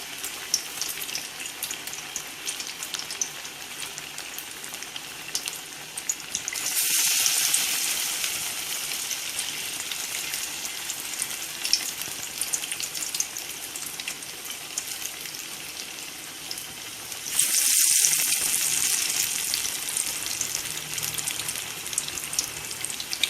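Banana flower vadas fry in hot oil in a home kitchen, giving a steady bubbling sizzle throughout, with two louder surges of crackling about ten seconds apart as fresh batter hits the oil.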